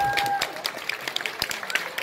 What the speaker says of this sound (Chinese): 我们给他一个热烈的掌声啊